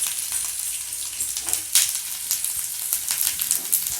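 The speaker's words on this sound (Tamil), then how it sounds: "இப்போ கட் பண்ணி வச்சுருக்க பஜ்ஜி மிளகாய் போட்டுக்கோங்க." Cut bajji chillies sizzling in hot oil in a pan with softened onions, a steady bright crackle and hiss with small pops and a few stirring scrapes throughout.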